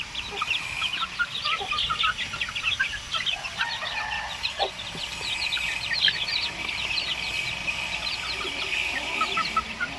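Basilan and Zampen native chickens, young birds around 45 days old, fill the air with a dense, continuous chorus of high peeps and soft clucks, fairly close and with no talking.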